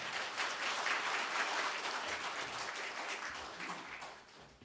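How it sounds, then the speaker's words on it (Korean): Steady audience applause fills a hall at a spring Buddhist service at the National Assembly, sustained for several seconds at moderate loudness and then tapering off. "큰 박수 부탁드립니다"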